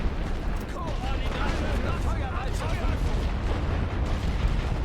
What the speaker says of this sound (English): I'm going to try to hit them with light artillery